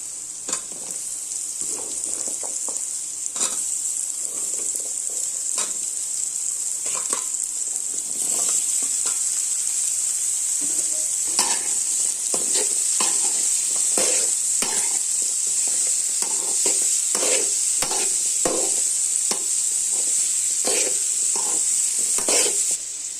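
Ground pumpkin sizzles steadily in a hot pan while a spoon repeatedly scrapes and stirs through it, with no talking.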